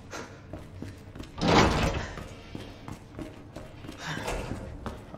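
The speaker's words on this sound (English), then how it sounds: "Okay, that door unlocked." A door unlocking and opening in the police station of the video game Resident Evil 2 Remake, one loud broad burst of mechanical clatter and swing amid faint ambient game noise.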